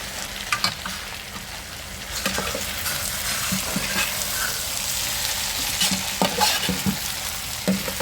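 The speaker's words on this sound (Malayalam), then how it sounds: "പൊരിച്ചു വെച്ച മീൻ അതിലേക്ക് ഇട്ട് കൊടുക്കുകയാണ് നല്ലപോലെ മിക്സ് ആക്കി എടുക്കാം" Fried fish being stirred into sizzling masala for a fish chilli roast, with a steady close sizzle and sharp intermittent scrapes and clatters of a spoon against the pan.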